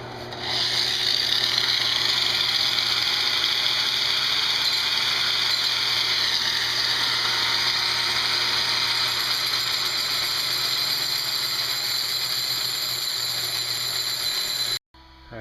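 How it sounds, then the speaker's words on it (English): A metal tool is ground down thinner just above its teeth, a steady close abrasive whine that lasts about fifteen seconds before cutting off abruptly. "I'm going to grind this down thinner above the teeth"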